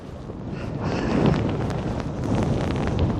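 Strong gusts of Storm Darragh buffet the microphone on the seafront at Skegness, a steady roaring rush that swells around the middle and again near the end, loud and close with no talk.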